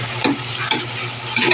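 Sliced bitter gourd sizzling in a hot pan while being turned, with a few distinct scraping stir strokes over a steady frying hiss.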